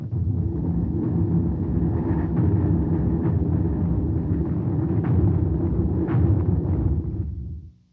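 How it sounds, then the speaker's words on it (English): Violent artillery bombardment before the Rhine crossing assault, a continuous heavy low rumble of massed guns with dense overlapping booms, loud and unbroken throughout before cutting off at the end. "The assault on the night of March 23rd was preceded by a violent bombardment"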